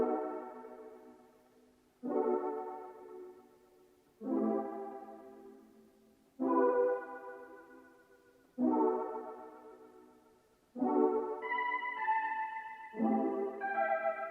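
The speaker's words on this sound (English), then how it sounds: "Next thing I added was this Butterfly synth keys from Loophole, and I used the same chords" Butterfly synth keys from Loophole play a sequence of seven soft chords, each struck roughly every two seconds and left to decay, clean and isolated with no voices.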